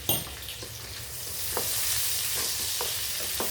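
Onions sautéing with salt in a pan for radish curry (mullangi kulambu): a constant close hiss of frying oil with occasional light spoon taps and stirs.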